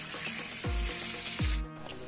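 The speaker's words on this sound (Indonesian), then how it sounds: "kita goreng dulu ikannya tuh" Fish sizzling steadily in hot oil, a loud continuous crackle close by, with a couple of low thumps as pieces are moved in the pan, and no one talking.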